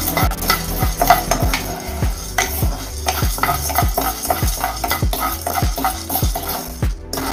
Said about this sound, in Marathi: चणा डाळ पण तसंच भाजून घ्यायचं.